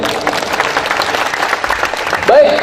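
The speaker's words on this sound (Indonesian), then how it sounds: "Tepuk tangan buat Mas ya" An audience in a seminar room claps for a young man, a steady wash of applause with talking mixed in and a brief tonal squeak near the end.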